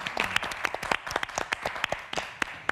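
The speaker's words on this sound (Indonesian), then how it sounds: "kita kasih tepuk tangan dulu" Studio audience applause on a health talk show, a scattered burst of individual claps with uneven rhythm, moderately close and fairly quiet, no talking over it.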